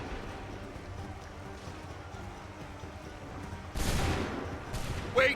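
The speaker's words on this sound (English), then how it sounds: "Open fire." A musket volley fires on command in Assassin's Creed 3 Remastered, a sudden loud ragged burst near the end followed by a second crack, after quieter battlefield ambience with hoofbeats.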